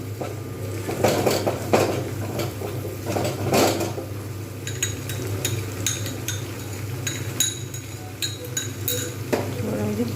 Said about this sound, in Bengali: কিন্তু কন্টিনিউ তাকে নাড়তে থাকলাম